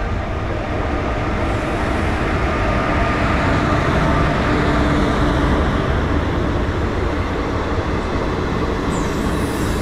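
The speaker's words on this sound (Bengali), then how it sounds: "ঢুকছে হাওড়া মালদা ইন্টারসিটি এক্সপ্রেস।" Howrah Malda Intercity Express pulling into platform 3 at Khagraghat Road station, a loud, steady rumble of rolling railcars and wheels that holds for the whole stretch, with faint squeal overtones and no talk.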